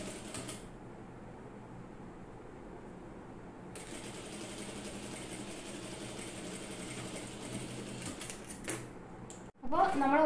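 Sewing machine stitching the hem of an umbrella-cut skirt, a steady close mechanical whir that runs continuously for several seconds before stopping abruptly, followed by a brief clatter near the end.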